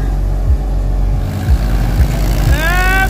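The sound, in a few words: Swaraj 742 XT tractor engine straining in tractor tug-of-war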